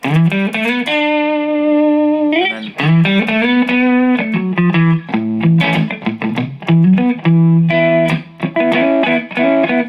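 Electric guitar played through a built-in distortion effect, loud and up close, with sustained overdriven chords and bent notes alternating with quick choppy bursts in a steady run of phrases.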